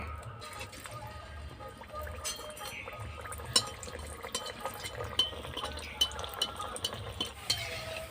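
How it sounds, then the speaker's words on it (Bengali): Kachoris fry in hot oil in a kadai, sizzling and bubbling steadily while utensils stir and clink now and then, close by. "কড়াই তেল দিয়ে দিয়েছি তেলটা হালকা গরম হয়ে গেছে এবার আমি কচুরিগুলো ভেজে নেব"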